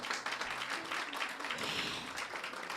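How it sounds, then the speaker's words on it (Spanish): Applause from an audience at a report launch event, a faint, even wash of many hands clapping together that continues steadily throughout. "por favor, un aplauso."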